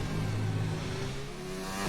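A Formula 1 race car engine in the F1 2019 game, droning loudly and steadily, then its pitch drops sharply as it shifts down a gear near the end, heard close and alone.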